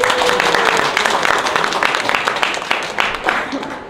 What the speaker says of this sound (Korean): 자기 자신한테 너무 잘했다고 셀프 박수 한번 쳐주세요